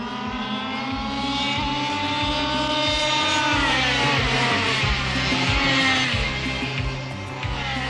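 Racing karts on a track, engines buzzing loudly and steadily with rising and falling whine as they pass, several motors overlapping close by throughout, no voices.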